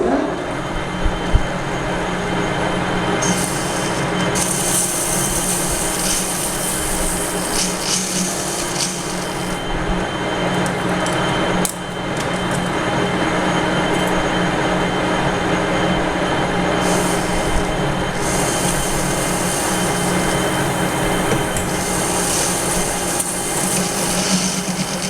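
Continuous machining noise from cutting a shoulder on an etching press handwheel, a steady loud grinding hum with higher-pitched metallic whine that drops out and returns intermittently.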